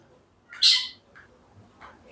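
A white-rumped shama (murai batu) gives one loud, sharp squawking call, then two fainter short calls follow at intervals, with no voices and quiet around them.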